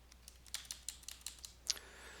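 Someone types on a computer keyboard, giving a short burst of about a dozen light, irregular clicks close by in a quiet room, ending on one louder key press.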